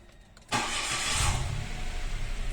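A Mitsubishi Mirage G4 sedan's engine cranks and fires after a half-second of quiet, then settles straight into a loud, steady idle up close.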